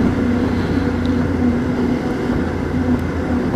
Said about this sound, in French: J'accélère un petit coup.